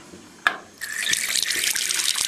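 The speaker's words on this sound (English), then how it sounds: "put some water in, and we do a static test, same as a bath, let it settle" Tap water runs into a bathroom sink in a steady, close hiss after a short click, filling the basin continuously with no voices.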